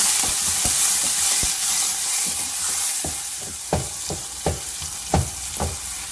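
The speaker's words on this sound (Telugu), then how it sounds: "ఇది మెంతి, కొంచెం మెంతి వేసిన మంచి ఫ్రై కానివ్వండి." Onions frying in oil with fenugreek seeds for carrot onion uttappam, a broad steady sizzle close by, punctuated by a series of sharp spatula taps that grow more distinct toward the end, no voices.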